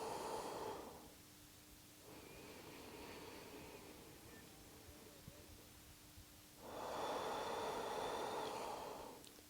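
Slow, deep breathing during a mindful morning yoga breathwork session, a long soft exhale at the start and another swelling breath near the end, airy and close, with a quieter stretch between.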